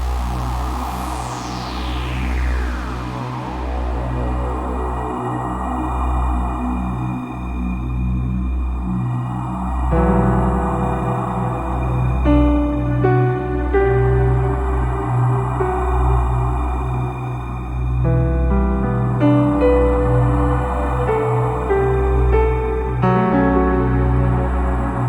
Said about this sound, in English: You were probably expecting something more long-tail, creative, spacious, eerie, dystopian, cyberpunk, bleak future prophecy movie like this.